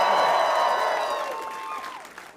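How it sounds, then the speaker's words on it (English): Comedy club crowd at the Raleigh Improv claps and cheers, starting full and loud, then tapering off over a couple of seconds. "Get as loud as you can. Let me hear it."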